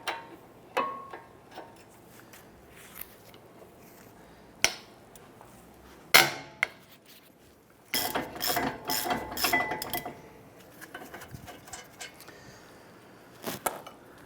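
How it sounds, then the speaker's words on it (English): A breaker bar with a 19mm deep socket loosening caliper bracket bolts on a 2009-2015 Honda Pilot, scattered sharp metallic clicks and knocks, then a cluster of ratcheting and clanking around the middle, close and fairly loud with quiet gaps between. "19mm caliper bracket bolts. We're using our deep socket and our breaker bar."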